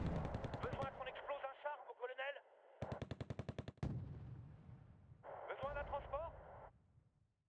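Rapid bursts of machine-gun fire from units in the strategy game Wargame: Red Dragon come in several clattering volleys, loud and close, while someone talks over them.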